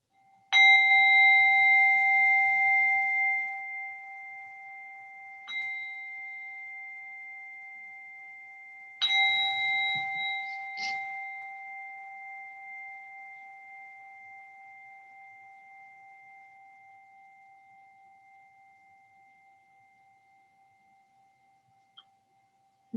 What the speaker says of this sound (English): See if you can allow your attention to focus on the sound of the bell.